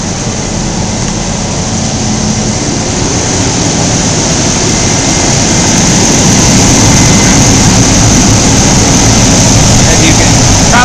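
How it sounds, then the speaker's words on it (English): A truck engine idles steadily with a dense low rumble and broadband roar that holds constant throughout, loud and close, after a lead-acid battery was swapped for an alum battery. "Alright, well, we got the truck running."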